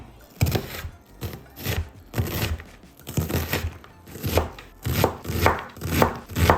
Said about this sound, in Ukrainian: Цибулю так само нарізаємо, як і моркву, невеличкими кубиками.